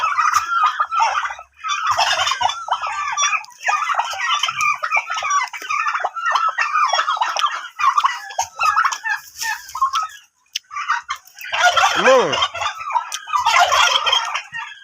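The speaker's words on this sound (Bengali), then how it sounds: "এই দেখেন টার্কি মোরগগুলা ঝগড়া করতেছে ঝগড়া" Several turkey cocks fight and gobble loudly and almost continuously at close range, their rapid warbling calls overlapping in noisy bursts with short pauses between.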